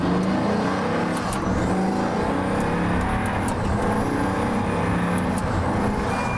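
A Pagani Huayra supercar engine roars continuously up close, deep and loud, with faint high squeaks above the sustained growl.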